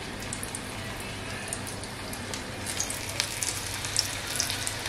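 Squid rings coated in semolina fry in hot oil over low heat, giving a steady crackling sizzle with scattered sharper pops that grow a little busier toward the end, close and alone without talk.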